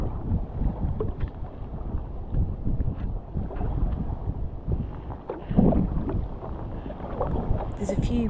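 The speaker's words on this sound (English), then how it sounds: "the wind is rushing across it" Wind buffets the microphone with a low, rumbling roar over an open loch on the Great Glen, raising waves, with faint splashes and a murmur of voices in the background.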